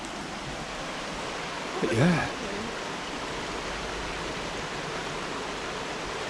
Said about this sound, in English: At least that stream's flowing now.